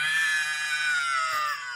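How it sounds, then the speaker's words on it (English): Screaming sound effect from a loops library: a single sustained, strained high-pitched scream, loud and close, holding steady for nearly two seconds with a slight waver before easing off at the end. "Screaming."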